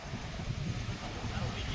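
Wind blows steadily at the seashore near the Nageshwar area of Dwarka, a continuous low rushing roar with a broadband hiss, close to the microphone and unbroken throughout.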